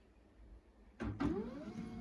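An HP LaserJet MFP 136nw laser printer warming up: a short mechanical whir starts abruptly after a second of quiet, with a brief rising motor sweep, then settles into a steady low hum.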